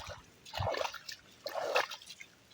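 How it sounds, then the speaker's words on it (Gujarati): Water seeps from a crack in the ground, a faint, close trickle and dribble that swells in two soft bursts. "જમીનમાંથી જ આવે છે પાણી"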